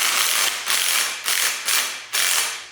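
A hand ratchet repeatedly clicks as it snugs small 5/16 bolts with lock nuts on monster truck pinion brakes, several bursts of dense ratcheting separated by short pauses, loud and close with no talking.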